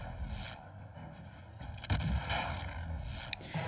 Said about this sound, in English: Limpet cannon will finish it off.